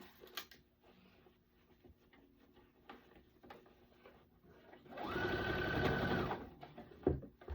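A sewing machine stitches fabric in a single steady, whirring run of about a second and a half, close and clear after a stretch of faint handling noises.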